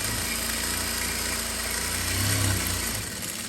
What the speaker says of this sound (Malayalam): അപ്പം ഞാൻ ഈ ഫുൾ സ്പീഡ് വെച്ചിട്ട് തയ്ക്കുവാണ്